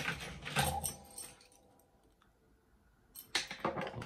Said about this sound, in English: We'll just spin the screws out.